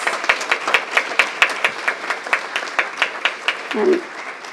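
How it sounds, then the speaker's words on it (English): An audience at a city council meeting applauds for students, a modest group of people clapping with distinct, fairly even hand claps, with a short voice near the end. "Let's take a moment to give everybody a round of applause."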